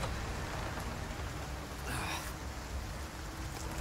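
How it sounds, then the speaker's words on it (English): Steady rain from the video game Resident Evil 4 Remake hisses evenly throughout, a dense wash of falling rain with a brief louder swell midway and no voices. "Still raining, yes."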